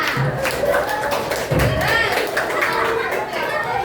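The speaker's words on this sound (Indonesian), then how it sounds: "Tepuk tangan untuk kita semua" Vocational school students in a classroom clapping together, a dense burst of hand claps mixed with thumps and chatter, with voices talking over the applause.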